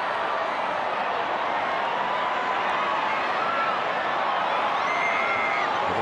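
Large rugby crowd roaring continuously at a Tonga versus Australia test match, a dense, steady wash of cheering from a packed stadium with no clear breaks.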